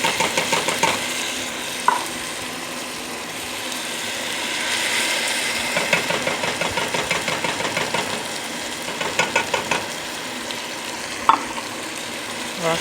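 A spoon stirs tomato sauce into golden brown rice in a pan. The scraping comes in steady close strokes over a continuous sizzle, with a few sharper clinks.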